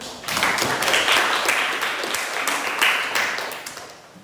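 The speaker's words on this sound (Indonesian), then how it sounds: "Kasih tepuk tangan dulu." Applause in a classroom at the close of a student's presentation in a lesson, a steady wash of many hands clapping that carries on for about four seconds before easing off toward the end.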